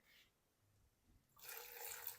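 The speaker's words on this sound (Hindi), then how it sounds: "थोड़ा सा ना हम इसके अंदर पानी डालेंगे।" Quiet room tone, then water pours steadily into a potato and semolina mixture from about the midpoint, a continuous splashing rush that runs to the end.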